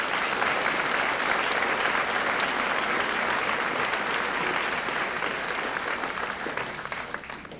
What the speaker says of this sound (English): Let's give all these students again a round of applause.